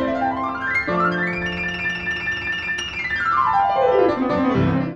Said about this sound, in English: Adjusting this recording to the actual speed Czerny had in mind, it would sound like this.